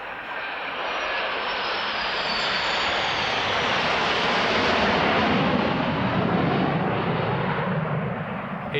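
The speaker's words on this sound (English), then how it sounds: "There will now be a flypast of aircraft from Belgium, the United States, Italy, Germany, the United Kingdom, the Czech Republic, France, and the Netherlands, including F-16s, Gripens, Eurofighter Typhoons" Military jets including F-16s, Gripens and Eurofighter Typhoons roar past in a flypast, a loud sustained broadband rumble swelling toward the middle and holding steady throughout.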